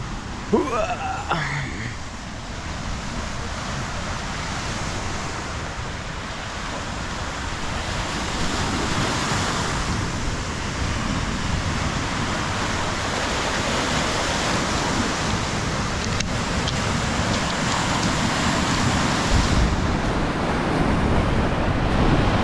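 Steady wash of Lake Superior waves breaking on a shore, a continuous broadband rush with a touch of wind, heard alone without talk.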